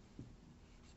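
Pen or marker writing on a surface while noting an electronics equation, a single soft scratching stroke near the start followed by faint low room noise, quiet and close.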